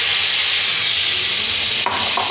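Pointed gourd (potol), already fried, stirred into a spice paste in a pan for a Bengali doi potol dish, giving a steady close sizzle and hiss with soft scraping that briefly dips near the end.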